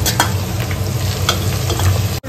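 Chopped onion hitting hot oil for vegetable biryani, a loud steady sizzle with a few scraping stirs, close and continuous with no voices.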